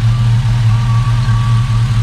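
Loud, steady low rumble of an LS-swapped, air-bagged Chevy C10 truck idling nearby through Hooker Blackheart LS manifolds, the exhaust burble even and unbroken, with no one speaking.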